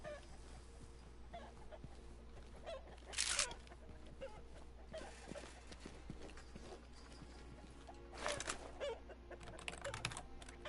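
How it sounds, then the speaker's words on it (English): Keys clack steadily on a computer keyboard, quiet close tapping with a few louder bursts of rapid strokes against a low background hum. "I've got the sweet ballistic keyboard"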